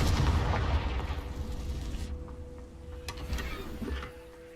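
The Confringo blasting spell in the video game Hogwarts Legacy bursts in a loud, rumbling explosion near a crumbling tower, its heavy roar rolling on for several seconds before fading away.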